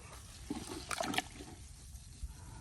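Water is poured into chicken feed, a brief, quiet splash and trickle near the middle against a soft background hiss.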